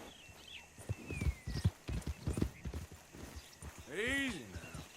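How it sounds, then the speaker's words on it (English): Horse hooves clip-clop at a walk in the Red Dead Redemption 2 video game, a steady close rhythm under talking voices, with a horse whinnying near the end. "Vou no meu cavalo."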